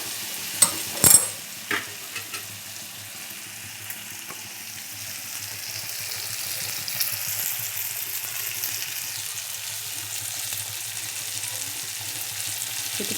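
Stuffed brinjal (eggplant) sautéing in an oily masala, a steady soft sizzle with a few sharp utensil clinks and scrapes at the start, then continuous low frying hiss alone.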